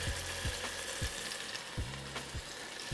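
Beef chunks sear in a hot pot for stew, giving a constant close sizzle with several sharp knocks of a utensil against the pot scattered throughout.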